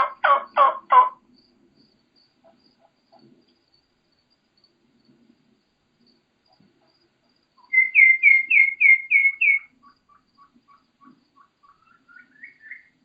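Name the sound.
wild turkey hen calling in the field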